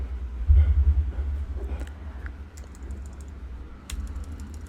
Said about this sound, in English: Okay, let's type round